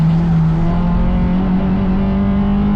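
Race car pulling hard out of a corner in second gear during wheel-to-wheel racing at The Bend circuit, a loud, steady engine drone that rises gradually in pitch as it gains speed, with no talk over it.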